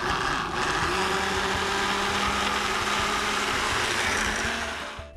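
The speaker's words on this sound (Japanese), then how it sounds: "先ほど煮込んでいたじゃがいもですね、これをミキサーで回していきます" A kitchen blender purées simmered potatoes for a chilled potato soup, giving a loud, steady motor whir that holds for about five seconds before cutting off, with no speech.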